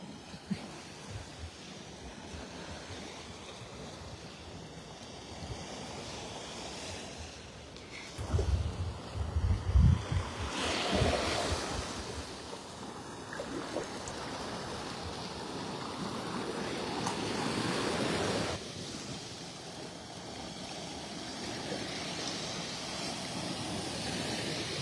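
Ocean waves wash up on a shore where tiny fish are stranded, a steady broadband surf roar with a louder swell surging around the middle, mixed with wind buffeting the microphone.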